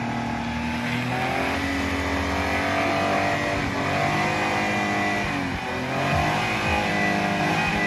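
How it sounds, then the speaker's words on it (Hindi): A car's engine revs steadily as its tyres slip and spin in deep snow in Himachal Pradesh, a loud continuous whine rising and falling in pitch without pause. "गाड़ी जो है बिल्कुल भी जो है बर्फ में चल नहीं पा रही है, क्योंकि बर्फ जो है बहुत ज्यादा है और जो है टायर जो है फिसल रहे हैं।"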